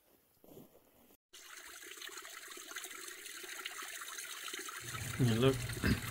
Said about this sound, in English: We even got water, running water, believe it or not, in the desert.